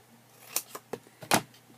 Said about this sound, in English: I think I can just do that with my scissors.